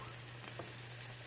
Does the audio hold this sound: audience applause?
no